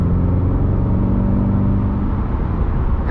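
A new Chevrolet C8 Corvette, still in its break-in period, surges hard under throttle with a steady, loud close engine drone that rises and holds, a shift-like change late in the run, no voices.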